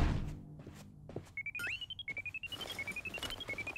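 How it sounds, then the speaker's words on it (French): An electronic alarm in a French Polly Pocket cartoon rings in a rapid pulsing beep pattern, repeating steadily and loudly after a few knocks and a rising whistle-like tone. "Arrête cette sonnerie infernale."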